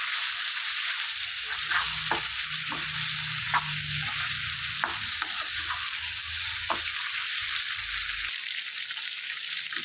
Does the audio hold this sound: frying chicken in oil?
yes